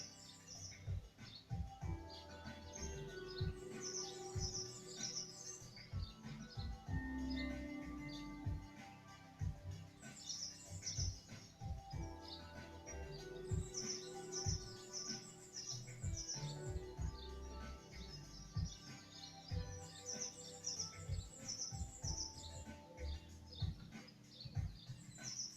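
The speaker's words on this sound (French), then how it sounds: "les oiseaux." Birds sing in soft, repeating bursts of chirps and tweets throughout, forming a faint nature soundscape for a relaxation session.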